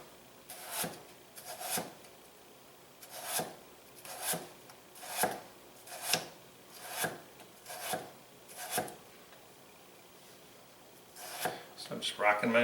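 A knife rocks through potatoes on a cutting board, slicing them into thin pieces with about ten evenly spaced, rasping cuts, then a quicker cluster at the end, close and clear.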